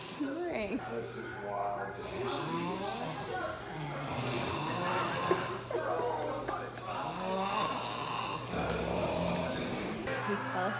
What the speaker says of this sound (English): Everybody's snoring.